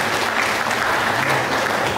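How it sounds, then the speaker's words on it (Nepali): Audience applause at a live comedy show in Baglung, Nepal: dense, steady clapping from a crowd fills the whole stretch at an even loudness, with no voices over it. "मनोज गुरु ताली माग्दैन, विद्वान तर्फले आफ्नो ताली माग्छ।"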